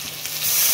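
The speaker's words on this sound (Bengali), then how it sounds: "একটু জল দিচ্ছি।" Water poured into a pan of boiled potato curry, bringing up a rising, steady hiss of sizzle and steam.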